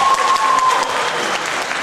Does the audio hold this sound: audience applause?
yes